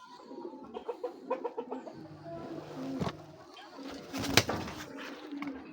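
High flyer pigeons coo in a close, soft series of rhythmic throaty calls, joined later by rustling and a couple of sharp flutters or knocks, moderately quiet with no talking.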